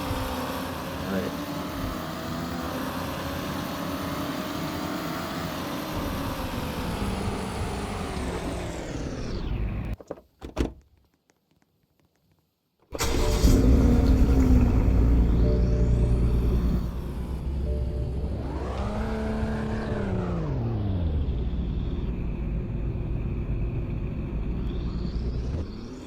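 Car engine in Roblox Greenville revving hard at a race launch, a loud sustained roar that cuts out briefly, then surges back with rising and falling pitch sweeps as the car accelerates and shifts.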